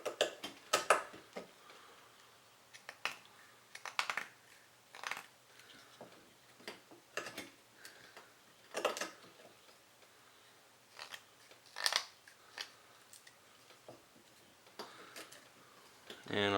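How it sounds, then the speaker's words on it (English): A Benchmade 940 folding knife carves a notch into a wooden stick, giving irregular sharp scraping clicks and ticks in short bursts with quiet gaps between them. "Okay, sharpen one end, and let's carve a notch in the other."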